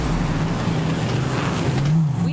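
A car driven in the video game Borderlands 3 runs with a steady engine drone, a low constant hum and rising whine that swells slightly near the end, continuous and fairly close.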